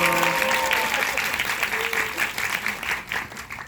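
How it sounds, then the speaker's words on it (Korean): Audience applause during a question-and-answer session, a steady wash of clapping across the room with a voice talking over it at the start. "박수 한번 드릴까요?"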